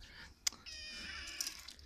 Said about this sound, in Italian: Guarda proprio questa povera gatta